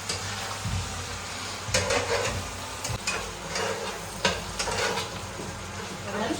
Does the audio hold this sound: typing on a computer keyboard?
no